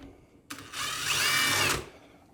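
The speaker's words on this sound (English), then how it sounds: "we'll go ahead and drill this out" A cobalt drill bit bores out a hard metal part from a cheap Harbor Freight air blower, a steady high whine and grinding that starts abruptly, runs loud for over a second, then cuts off.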